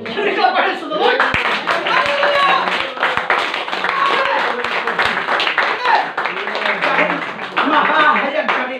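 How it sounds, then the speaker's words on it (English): A church congregation claps along to worship, steady rhythmic hand claps under loud singing voices and music, close and continuous throughout. "Oh, can we clap our hands to the Lord?"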